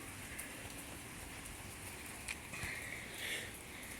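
Steady rain falls throughout a thunderstorm, a soft continuous hiss and patter with occasional nearby drips, fairly quiet and with no talking.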